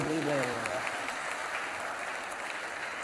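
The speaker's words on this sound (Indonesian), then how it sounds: "Tepuk tangan lagi ke sini" A church congregation claps in dense, sustained applause that fades slightly over three seconds, with a brief voice at the start.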